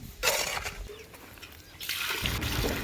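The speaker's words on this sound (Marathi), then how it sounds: "मित्रांनो पहिल्या वेळेस पाणी ओतताना फुल पाणी ओतायचं सगळं पर्यंत प्लेट पर्यंत सगळं ओलं झालं पाहिजे" Water poured from a vessel into a house earthing pit, soaking down to the buried earth plate, gives a steady close splashing and gurgling trickle that fades midway and then returns stronger.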